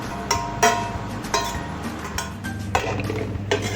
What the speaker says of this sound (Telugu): ఇప్పుడు పోపు పెట్టుకున్నది ఈ పప్పులో కలిపేసేయాలండి